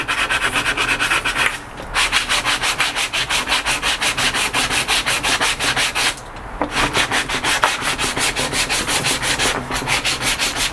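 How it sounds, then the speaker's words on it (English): Wood pieces for a bathroom sink shelf are hand-sanded in steady, rapid back-and-forth strokes, a continuous close rasping broken by two short pauses. "So as soon as we finish sanding all 3 pieces"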